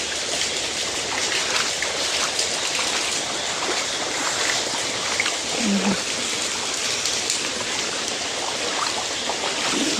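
Heavy rain pours down over a village in Odisha as a dense, steady hiss of falling water, with no breaks for the whole stretch and no voices over it.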